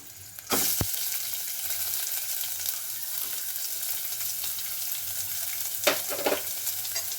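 Onions fry in a pan for Andhra-style palak pappu, a steady close sizzle with a couple of louder stirring scrapes near the start and end.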